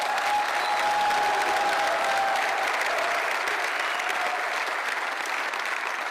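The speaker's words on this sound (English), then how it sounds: "How about a round of applause for them?" Sustained applause at a press conference honoring the men's and women's basketball teams after their Sweet 16 run, a steady wash of clapping from the room that tapers slightly toward the end.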